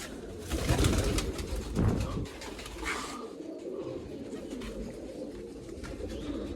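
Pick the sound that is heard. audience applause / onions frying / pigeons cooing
pigeons cooing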